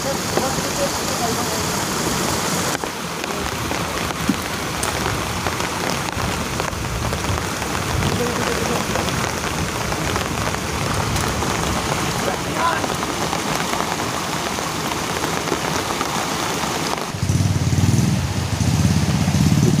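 Heavy rain pours down steadily with a dense hiss on a muddy rural track where motorcycles carry timber, loud and continuous, and a deeper rumble swells near the end.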